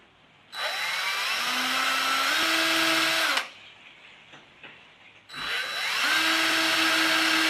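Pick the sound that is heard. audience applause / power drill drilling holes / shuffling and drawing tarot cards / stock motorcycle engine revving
power drill drilling holes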